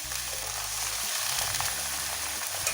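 Potato pieces and shredded cabbage fry in oil in a wok, giving a steady, continuous sizzle close up with no talking.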